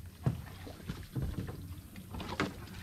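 A canoe or kayak paddle on a creek makes soft, irregular splashes and knocks of paddle strokes against the water and hull, fairly quiet and close, with no speech.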